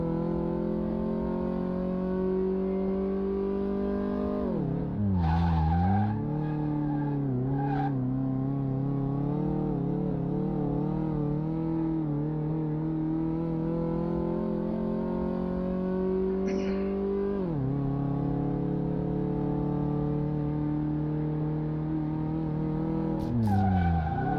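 Mayen M6 race car in the video game CMS 2018, its engine droning steadily with harmonic revving that dips sharply at gear shifts and climbs again, plus brief tire squeals, loud and continuous with no talk.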